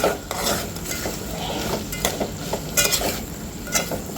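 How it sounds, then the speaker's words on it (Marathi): Salted Khandeshi masala dal khichdi is stirred and sautéed in a pot, with a soft sizzle under scraping and clinking of a spoon against metal, a few sharper knocks near the end. "याला परत एकदा परतून घ्यायचं आपल्याला"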